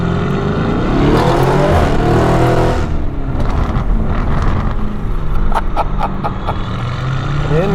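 Novitec-tuned Lamborghini Urus engine roars loudly and continuously, rising in a rev then easing, close up with a few sharp pops and clicks near the end.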